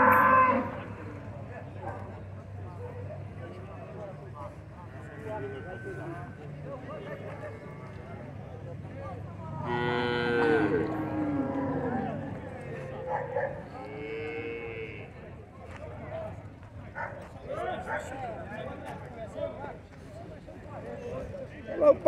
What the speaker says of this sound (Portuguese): O gado tá bom, tá primeiro aqui.